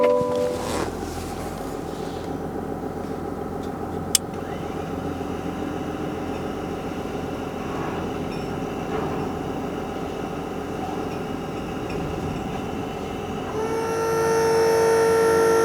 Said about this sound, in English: Winch the bin out.